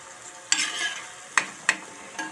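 Onions and tomato sautéing in a pan for a Kuttanad-style duck curry, a soft sizzle broken by a few sharp stirring scrapes of a spoon against the pan, close and without talk.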